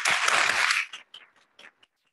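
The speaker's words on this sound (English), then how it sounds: "one more round of applause for Michelle" Dense conference hall applause for a plenary speaker at a Drosophila research meeting, loud and full for under a second before quickly fading to a few scattered final claps and silence.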